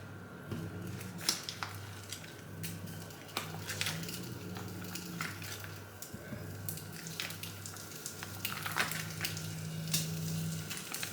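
Pre-packed satay tofu sizzles in a pan at a moderate level, with scattered clicks and scrapes from turning and stirring, while a low hum runs underneath the whole time.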